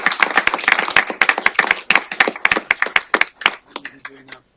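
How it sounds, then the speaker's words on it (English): At a county commissioners meeting, a small room of people claps in a brisk round of applause, with individual sharp claps audible before it thins out and stops, followed by a brief quieter tail. "Let's give it a round of applause."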